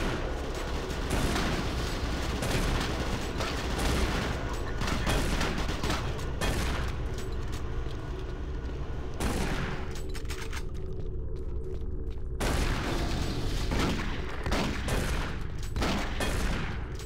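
Dense, continuous bursts of shotgun gunfire and explosive booms from the video game Doom 3, loud and close, with brief lulls between volleys and no talking.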